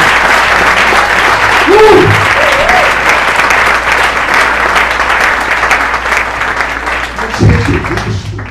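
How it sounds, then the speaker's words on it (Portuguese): Sustained applause from a large church congregation fills the whole stretch, steady and loud, with a few voices briefly calling out over it. "vamos aplaudir o Senhor, porque a Regina está ali."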